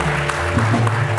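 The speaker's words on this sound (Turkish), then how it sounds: "Bunu niye alkışlıyorsunuz?" Studio audience clapping in a Turkish TV talk show, a steady dense patter of many hands throughout the short moment, with a voice faintly underneath.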